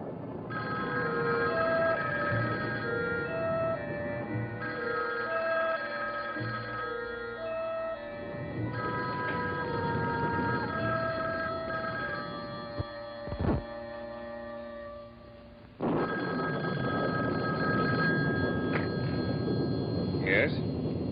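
Telephone ringing during a call, heard as a repeated ring with a faint, thin, line-filtered quality, alongside muffled dramatic music and occasional soft thunks.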